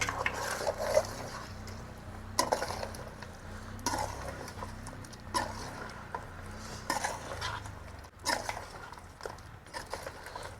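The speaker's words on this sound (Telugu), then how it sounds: "మసాలా వేసుకుందాం ఒక్కసారి కలుపుకుందాం మొత్తం" A spoon stirs masala into a pot of goat head and legs curry cooking in a village setting, with repeated scraping and clinking strokes against the pot at a steady rhythm over a low simmer.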